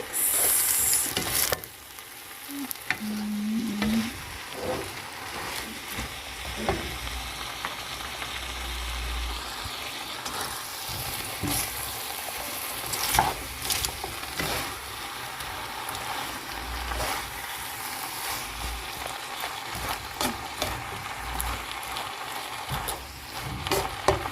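Asian noodles with vegetables stirred and fried in a pan, a steady loud sizzle with scraping, tossing strokes close up, running continuously with almost no talk.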